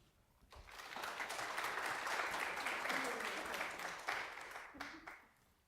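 An audience breaks into sustained applause for a speaker at a bioethics grand rounds lecture, a dense crowd of clapping that swells, holds steady for several seconds, then tapers off.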